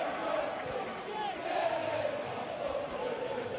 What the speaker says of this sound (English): It's got the crowd going.